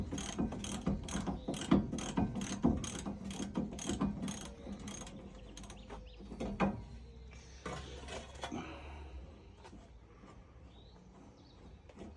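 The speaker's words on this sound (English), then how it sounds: "Get the ratchet on them." A ratchet loosens very tight brake caliper carrier bolts during a brake disc and bearing job, a quick run of evenly spaced clicks, then slower scattered clicks and clunks as the bolt gives, close and fairly clear.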